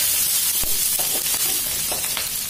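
Squid stir-frying in a hot pan with chili and garlic, a steady loud sizzle with a few sharp spatula scrapes and stirring taps over about two seconds.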